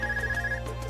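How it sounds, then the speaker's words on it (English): ARCUS communicator in the Trails of Cold Steel video game rings with a steady electronic tone over background game music, the tone cutting off partway through. "So your arc is ringing? What's it doing ringing out here?"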